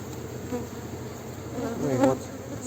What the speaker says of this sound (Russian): А здесь у нас рой прилетел.